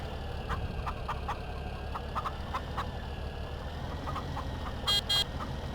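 Chickens on a small farm cluck and squawk in short repeated bursts over a steady low engine rumble, with a brief car-horn-like tone partway through.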